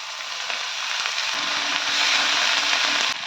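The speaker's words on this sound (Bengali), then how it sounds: "একটা ননস্টিক কড়াই তেল গরম করে দিয়ে দিচ্ছি রসুন বাটা" Garlic paste, chopped tomato and shredded cabbage fry in hot oil in a nonstick pan, giving a steady close sizzle with light crackles that grows slightly louder before stopping.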